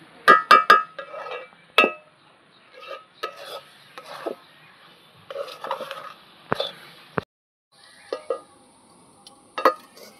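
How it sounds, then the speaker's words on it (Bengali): A spoon scrapes and clinks in a pan while semolina is stirred into a jackfruit naru mixture, producing irregular sharp metallic taps and short scraping strokes, close and clear with quiet gaps between. "সুজিটা অল্প অল্প করে দেবো আর নাড়া দেবো"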